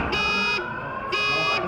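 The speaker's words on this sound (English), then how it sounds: "What does that mean when it's beeping? Means the alarm's going off." A school fire alarm sounds indoors in two bursts of shrill, buzzy electronic beeping with a short gap between them, heard at moderate volume from some distance.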